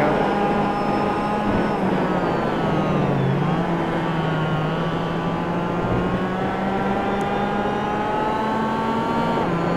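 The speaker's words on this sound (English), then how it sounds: "We are now on board of Jesper Pedersen's car." Onboard a race car lapping Brands Hatch Indy circuit in a Fair Cup 2012 heat: a loud, steady engine drone with harmonic whine rising and falling through gear changes, close and continuous, with no talk.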